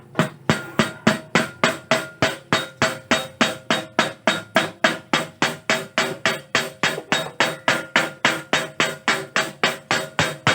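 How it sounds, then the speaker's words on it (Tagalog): A hammer strikes plain sheet metal being bent, in a steady, rapid rhythm, dozens of loud ringing blows close by with no talking. "Makikita nyo naman sa tunog ng martilyo."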